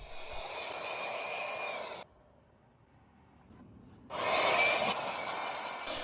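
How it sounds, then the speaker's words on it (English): A handheld blower clearing leftover grass debris from an opened robot mower deck, a steady loud whining roar for about two seconds, a brief pause, then the roar resumes just as strongly. "Then we can blow away any debris and grass left over."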